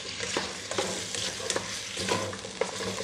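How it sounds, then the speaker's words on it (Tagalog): Chicken stirred in a sizzling pot for Filipino arroz caldo, a spoon scraping and clacking in irregular strokes over a steady frying hiss, close and alone. "So, halo-haluin lang natin"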